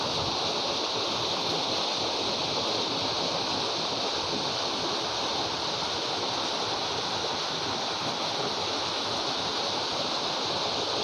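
A waterfall in the forest between Agumbe and Sringeri, a steady, unbroken rush of falling water heard alone at moderate level with no voices.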